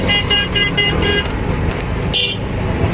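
An auto-rickshaw horn sounds a rapid string of short, evenly spaced toots, then one more brief blast after a pause, loud over steady road and traffic noise.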